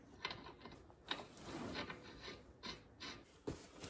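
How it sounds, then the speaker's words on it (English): A socket ratchet snugs up the wheel hub bolts on an Infiniti Q50 during a wheel bearing replacement. Faint, quick clicking and rasping bursts come in short irregular spurts. "This is my ratchet. I'm going to snug all these bolts up now with this one."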